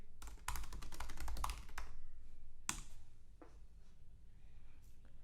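Typing on a computer keyboard while entering a street address into Google Maps: a quick close burst of clicking keystrokes, then a pause and a few scattered single taps.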